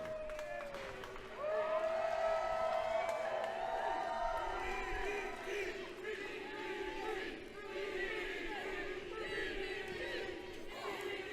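A wrestling crowd erupts in loud cheering and shouting after a short-arm clothesline by Jake the Snake Roberts, with whoops and chanting voices that rise sharply and stay strong, ebbing and surging again.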